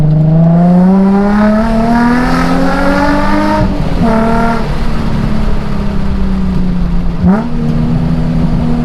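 A Nissan 350Z engine with sports cats revs and drones steadily up close, its pitch rising and falling, with a few sharp pops and crackles from the exhaust as the throttle lifts.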